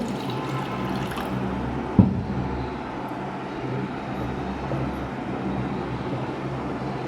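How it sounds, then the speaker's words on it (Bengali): Water pours into a bowl at home before mixing a cleaning solution for gold jewellery: a steady, fairly loud rushing wash with one brief knock near the start and no talk. "একটা বাটির মধ্যে আমি জল নেব"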